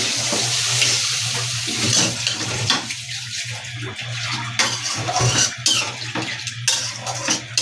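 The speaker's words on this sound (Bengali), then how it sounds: "এই যে আমি এখন ঝোলটা দিয়ে দিব তরকারি" Broth pours into a pan of curry with karela, potato and shing fish, a splashing, gurgling rush of liquid with a spoon clinking, near and fairly loud.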